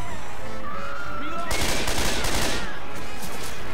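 Gunfire in the zombie shooter Left 4 Dead 2 comes as a loud, dense burst of rapid shots lasting about a second and a half, preceded by game sounds with a brief voice.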